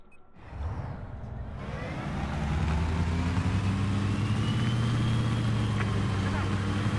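A boat engine in the Battlefield 4 shooter starts up and builds into a steady, loud droning rumble that holds through to the end, with faint talk underneath.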